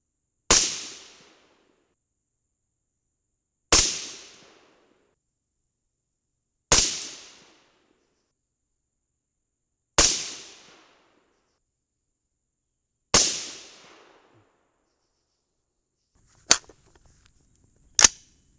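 Seven sharp .223 rifle shots fired with number 400 primers, each a single loud crack with a short decaying tail, the first five spaced about three seconds apart and the last two coming faster.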